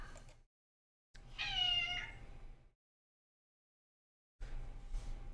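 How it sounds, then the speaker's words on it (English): A house cat gives one clear, drawn-out meow, close and fairly quiet, in a room with faint background noise before and after it. "Here we have the wild cat in her natural habitat"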